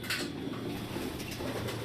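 Pigeons in a racing pigeon loft coo softly in low murmurs beneath a faint wash of background noise, quiet and somewhat distant, with no speech.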